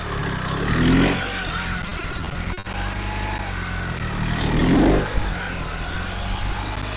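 A BMW 1300 RT-P police motorcycle engine idles and putters at slow speed during low-speed practice, a steady mid-level drone with two gentle swells in revs, no talking.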